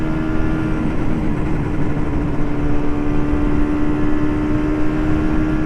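A 1971 Kawasaki A7ss, a small 250 motorcycle, running with a loud, steady engine drone that holds one even pitch throughout, close by and without talk.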